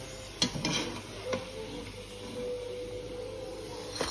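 Cassava and sweet potato fries frying in hot oil, a steady soft sizzle with a few sharp clinks of a utensil against the pan near the start and end, no talk.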